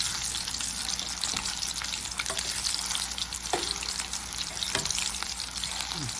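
Salmon fish frying crispy in a pan, Coimbatore style, with a steady close sizzle broken by sharp spitting crackles and pops throughout, no voices.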